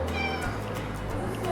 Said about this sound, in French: C'est un chat qui est énorme